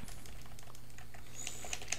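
Quiet, rapid computer keyboard typing during a C++ programming lesson, light clicking keystrokes in a quick patter, sharper taps near the end, close and faint.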